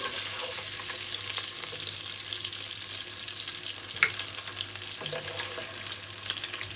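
Meat for achari chana daal gosht sizzles steadily in a frying pan, a dense, continuous crackle of hot oil with a few brief clicks, no voices present.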